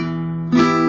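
A guitar chord from a song rings steadily, then gets a fresh, louder strum halfway through, brief and close.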